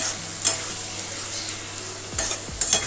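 Cabbage curry sizzles steadily in a hot pan while a spoon scrapes and stirs through it in a few separate strokes.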